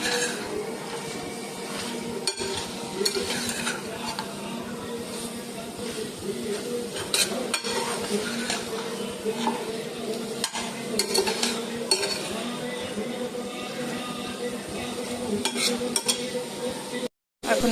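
Chicken with cumin powder, red chili and turmeric being stirred in a low-oil pan, continuous scraping and stirring over a steady sizzle with occasional utensil taps, no talking.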